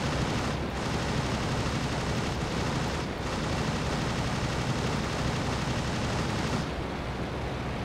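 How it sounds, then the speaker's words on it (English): A rear gunner's machine gun firing from a biplane in the WWI flight sim Rise of Flight, a dense, continuous roar of rapid fire blended with engine and wind noise throughout, with brief dips in the stream. "his gunner's still shooting"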